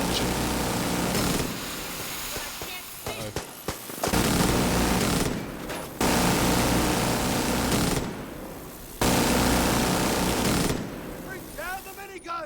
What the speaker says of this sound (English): Using a minigun to defend a post is usually the best way to do it.